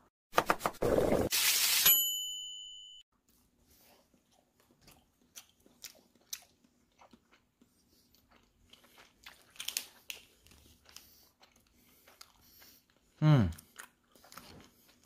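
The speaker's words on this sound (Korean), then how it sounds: "자, 먹어 보겠습니다." Seoul Milk cheddar cheese is eaten, opening with a burst of loud crinkling wrapper, then quiet close-up chewing and mouth sounds, a brief voice and a final louder bite-like noise near the end.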